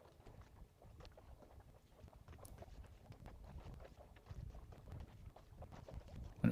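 A windsurf board pitter-patters across choppy water in strengthening, gusty wind, giving a steady run of light slaps and splashes under constant wind rush, fairly close and moderately loud, with no voices.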